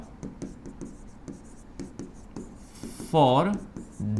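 Chalk or marker strokes on a board during a mechanical engineering lecture, with a rhythmic series of short scratchy marks. A voice cuts in briefly near the end.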